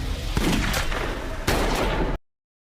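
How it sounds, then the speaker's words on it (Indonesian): Gunshots ring out in an action film scene where an attacker bursts into a room firing, two sharp loud blasts over a dense noisy backdrop before the sound cuts off abruptly. "Seorang anak buah pendeta masuk ke dalam ruangan dan langsung menyerang dengan tembakan"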